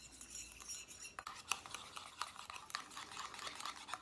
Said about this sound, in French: Et on remue bien entre chaque ajout.